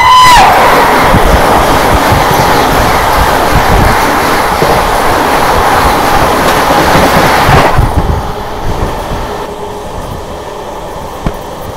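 The New Delhi–Varanasi Vande Bharat Express roars past at close range, a loud, steady rush of wheels and air that cuts off abruptly after about eight seconds, leaving a quieter rumble.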